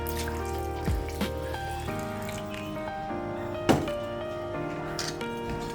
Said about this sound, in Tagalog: Lagyan ulit ng water.